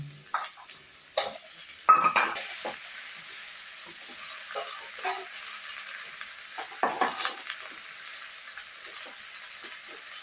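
Vegetables frying in hot oil for a Bengali fish curry, a faint, steady sizzle with a few scattered clinks and stirring knocks, one louder clatter early on.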